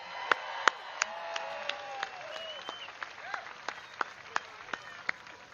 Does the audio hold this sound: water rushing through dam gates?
no